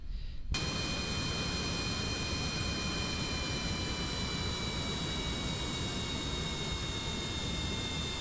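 Steady jet plane engine from Kerbal Space Program, a constant loud roar with a high whine that holds without a break.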